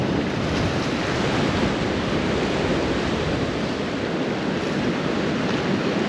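Big ocean swell surges onto coastal rocks in a continuous, loud roar of surf, buffeted by heavy wind noise on the microphone, with no voices.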